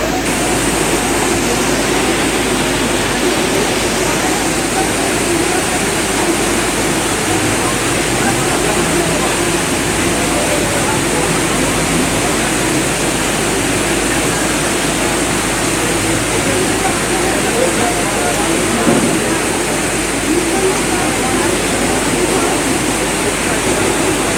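Floodwater rushing across city roads in Tolichowki's Hakimpet area after heavy rain, a loud, steady roaring wash that never lets up and has no talk over it.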